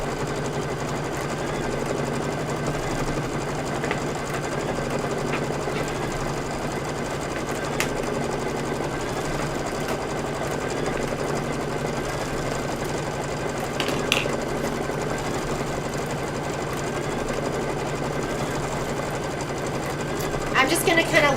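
An embroidery sewing machine stitches a table topper block held in a hoop, running in a fast, steady mechanical chatter that continues unbroken, close and moderately loud.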